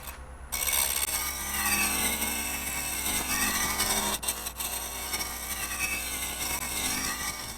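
Woodturning gouge cutting bocote on a lathe, a continuous loud rough scraping hiss over the low hum of the spinning machine, with a brief quieter pause midway, close and steady throughout.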